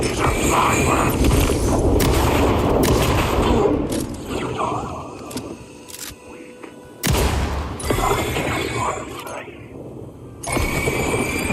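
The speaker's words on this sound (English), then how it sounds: "These are fireworks." Fireworks go off in the video game Alan Wake 2, a dense run of loud booms and crackling bursts with brief lulls, then sharp new blasts near the end, close and full over a busy game backdrop.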